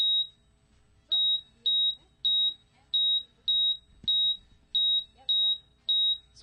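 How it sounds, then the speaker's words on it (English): A laptop running a biofeedback video game gives off a regular series of sharp, high electronic beeps, nine in a steady rhythm, with faint voices murmuring in the background. "We don't want to miss the amazing beeps and boops from this."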